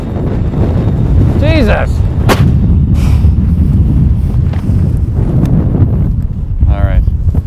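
Strong gusting wind during a wind warning, with gusts of 50 to 60 miles an hour, roars and buffets the microphone loudly and without a break. Brief voices and a sharp exclamation cut through.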